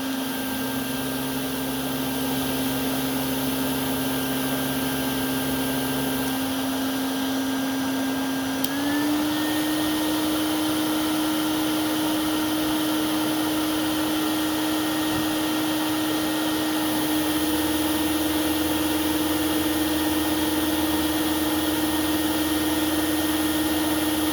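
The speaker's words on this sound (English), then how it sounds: "let's start it off in low. Turn the power nozzle on." A Filter Queen 112B Limited Edition vacuum runs steadily on low with its power nozzle switched on, giving a loud, continuous motor whine and airflow hiss throughout, with a slight pitch shift partway.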